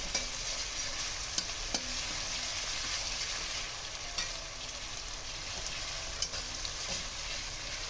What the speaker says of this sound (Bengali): এটা এবার একটু ভাজা ভাজা করে নেব, কাঁচা গন্ধটা যাওয়া অবধি